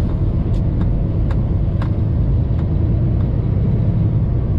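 A semi truck rolls along under way, heard from inside as a loud, steady low rumble of engine and road noise, with a few faint ticks over it and no talking.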